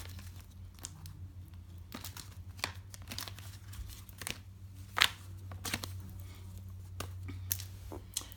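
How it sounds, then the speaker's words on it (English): Tarot cards are shuffled in soft, irregular papery riffles and snaps, close but quiet, with scattered sharper flicks over a low steady hum. "Get the cards all mixed up."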